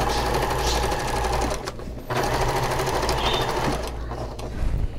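Sewing machine stitching a nylon zipper onto a Moroccan-style storage ottoman, running in a steady, close, continuous whir with a brief pause partway through and no talking.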